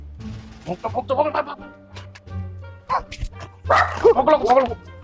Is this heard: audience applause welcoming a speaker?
no